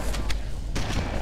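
Gunfire in Halo: Combat Evolved, a few rapid sharp shots in quick succession over continuous low game rumble.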